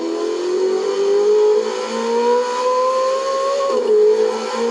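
A Ferrari V8 in Forza Horizon 4 accelerates loudly, its engine tone climbing steadily through the revs and then dropping briefly at a gear change before rising again. The game engine sound plays alone.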